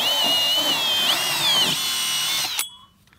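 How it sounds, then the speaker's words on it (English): A power drill runs steadily as its bit bores a hole in an old used tire, close to the sidewall where it meets the tread. The whine holds for about two and a half seconds, rises in pitch partway through, then cuts off. "you want to drill your hole right up close to the sidewall where it meets the tread of the tires"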